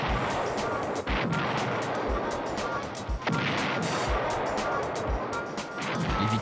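Cartoon gunfire in a Lucky Luke Western: rapid, irregular volleys of sharp shots, loud and close, cracking over a noisy action background.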